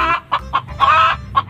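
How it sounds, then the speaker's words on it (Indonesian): A pair of chickens, a hen among them, cluck close by in short, loud bursts, with one longer cackling call in the middle. "ini ada sepasang ayam. Ini induk ayam."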